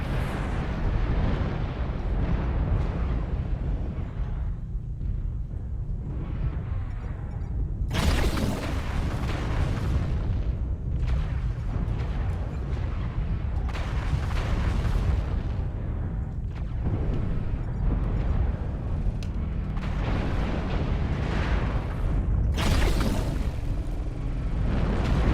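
Airstrike explosions in a video game roll on as a long, heavy, continuous rumble of booms, with several sharp blasts cracking in along the way, loud and close, and no talking over them.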